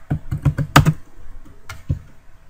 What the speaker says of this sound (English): I'm typing them all in.